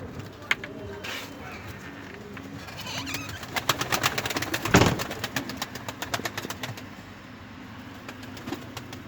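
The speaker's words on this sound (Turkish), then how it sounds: "Her taraf kümes. Çeşit çeşit rengarenk kuşlar." Pigeons, quail and other birds call and coo from close by in busy coops, with a burst of sharp clicking and rattling midway and a low steady hum underneath.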